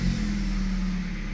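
A Kia C'eed with 97,000 miles on the clock idling steadily nearby, giving a smooth, even low engine hum with no revving and no voices.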